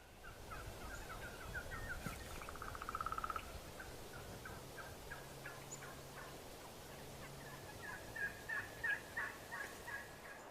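Wild turkeys gobble repeatedly at a distance in a field, with bursts coming and going over steady outdoor background noise and a louder cluster of gobbles near the end.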